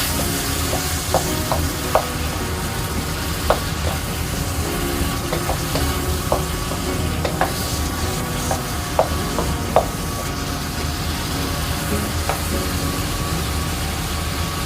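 Ground pork stir-frying in a wok with a little water added, for a stir-fry with bell peppers, squid and fish balls: a steady close sizzle with intermittent clicks and scrapes of the spatula, and no talking.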